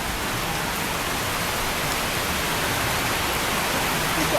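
Rain falling steadily outdoors on New Year's Day, a dense, even hiss close to the listener that holds constant with no voices.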